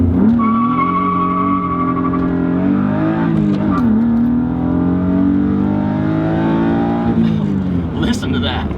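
A BMW M3 engine fitted with a swapped M50 intake manifold revs up and down repeatedly, loud and close. The engine tone rises and falls throughout, and a brief sharper burst comes near the end.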